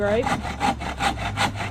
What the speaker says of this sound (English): all we're doing is he's cutting lumber right now, obviously